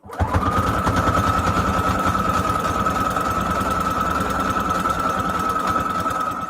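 A sewing machine runs a zigzag stitch on fabric scraps for a junk journal cover, a steady close whirring drone with fast rapid needle ticking that starts abruptly and continues evenly without pause.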